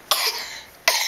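Two sharp coughs, one right after the other, close and fairly loud, with a short pause between them.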